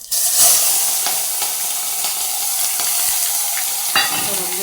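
Hot oil sizzling steadily in a pan while stuffed brinjal (bharela ringan) is being made, a continuous bright crackle with scattered pops, close and fairly loud, with no voices.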